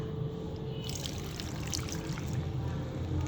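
Water poured from a cup into pumpkin curry in a wok, a steady close trickle lasting a few seconds over a soft background hum.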